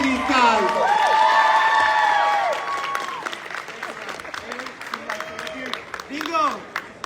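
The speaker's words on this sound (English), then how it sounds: "One more round of applause for these guys." An audience at a kids' panel at an animal convention gives a burst of applause with cheers and whoops that fades after a few seconds, while children and adults shout and talk over it.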